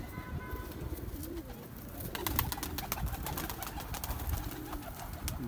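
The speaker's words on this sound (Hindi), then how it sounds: "वाह, बड़ी नस्ल का कबूतर है, बड़ी नस्ल का कबूतर है।" Pigeons cooing in low, throaty bursts, with scattered chirps and clicks in the background and no talking.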